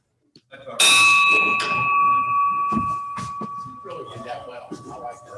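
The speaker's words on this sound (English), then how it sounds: "we're going to ring the bell" A bell is struck once and rings out with a clear, sustained tone that slowly fades under people talking nearby.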